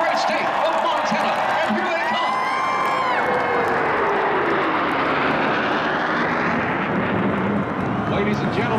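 Military jets of the Montana Air National Guard roar low over a college football stadium during pre-game ceremonies, a loud broadband rush swelling and slowly fading across several seconds while the crowd cheers underneath.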